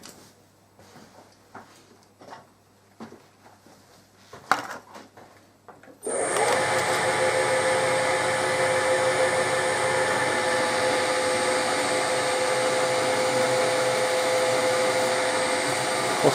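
A number 19 drill bit bores a tapping hole for an M5 grub screw during a thread repair. After a quiet stretch the drill starts with a sudden, loud, steady whirring drone that runs on unbroken for about ten seconds.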